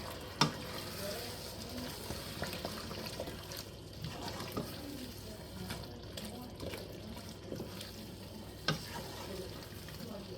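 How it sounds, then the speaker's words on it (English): Red dry wine stirred into beef stew in a pot, a low continuous bubbling simmer with soft scraping strokes and a few light knocks, close and quiet. "about 2 cups of red wine, red dry wine. Get this stirred in there."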